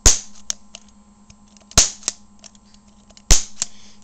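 A mini potato gun's spark igniter clicks three times at roughly even intervals, each a sharp close snap followed by a smaller tick, over a faint steady hum indoors.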